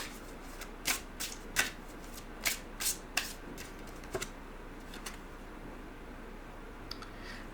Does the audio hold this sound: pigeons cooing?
no